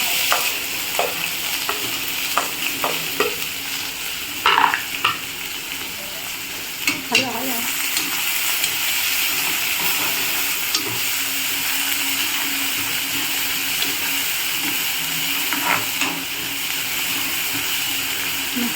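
Onion and green chili frying together in oil give a close, sustained sizzle, with several sharp clinks and scrapes of stirring early on before it settles into steady crackling, and no talking.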